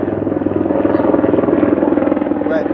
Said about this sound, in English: the helicopters coming from the rigs are flying over here today